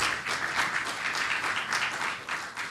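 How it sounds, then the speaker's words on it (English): Audience at a business breakfast meeting gives a steady round of applause, dense overlapping clapping at a fairly close, even level for the whole stretch. "Let's give another round of applause."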